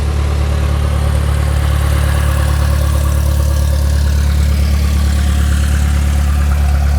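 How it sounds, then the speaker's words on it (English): A small airplane's piston engine idles close by with a loud, steady drone that holds unchanged throughout, and no voices are heard. "This is your spring loaded gizmo that starts the engine"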